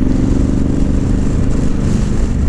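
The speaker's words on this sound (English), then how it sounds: "Sandeep on his Africa Twin" A Honda Africa Twin motorcycle engine idling close by, a loud, steady low rumble with no revving or talking.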